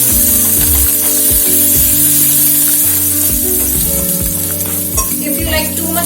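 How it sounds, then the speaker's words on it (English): Finely chopped ginger and garlic sauté in hot oil, a loud close sizzle that holds steady throughout, with a low tonal hum and rhythmic stirring knocks underneath. "then we will add ginger and garlic finely chopped into it"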